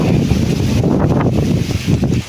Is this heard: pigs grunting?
no